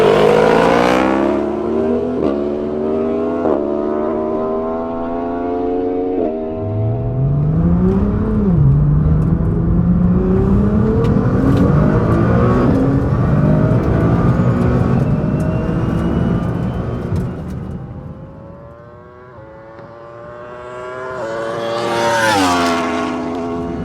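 Roll race between a tuned Yamaha R1 motorcycle and an 1100 bhp Nissan GTR: loud engines rev and shift through rising gear sweeps, roaring past up close and fading off before another high revving engine surges in at the end.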